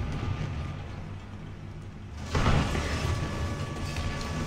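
A Jagdpanzer tank destroyer in War Thunder rumbles steadily as it drives, a low continuous engine drone that swells louder partway through and keeps churning to the end.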